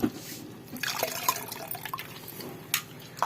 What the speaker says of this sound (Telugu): ఇప్పుడు చింతపండు అలా పిసకాలి. ఇప్పుడు పొయ్యాలి.